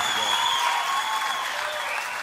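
An audience applauding after a sertanejo singer's song, a brief burst of steady clapping with a lingering held musical tone beneath, fading slightly toward the end.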